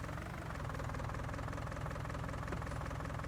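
Farming tractor engine in the Farming Simulator video game running at a steady, loud, close idle, its low rumble and rhythmic knock continuing without a break and with no one speaking.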